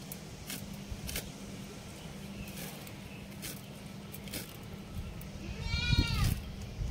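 A goat bleats once near the end, a short wavering call somewhat off at a distance, after a quiet rural stretch of faint tapping and soft background noise.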